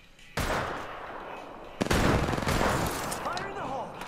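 Gunfire in a shooter video game, loud sustained bursts starting abruptly and surging again midway, mixed with game effects and a voice talking over it.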